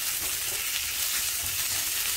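Shrimp frying in a hot pan on a home kitchen stove, a steady, dense sizzle that holds without break from start to finish, close and moderately loud, with no voices.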